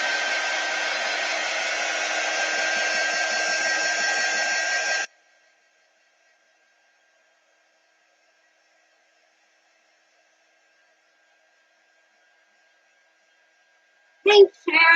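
A hair dryer blows steadily on a freshly painted craft piece for about five seconds, a loud continuous whoosh that then cuts off into silence, followed by a brief burst of another sound near the end.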